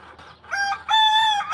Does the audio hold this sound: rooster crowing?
yes